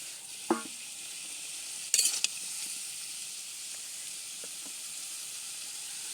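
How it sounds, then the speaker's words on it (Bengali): Okra and fish frying in a pan, a soft continuous sizzle with a few sharp utensil scrapes and clinks as the pan is stirred, no voices. "এখন ঢেঁড়স দিয়ে একটু নাড়িয়ে চাড়িয়ে দিব।"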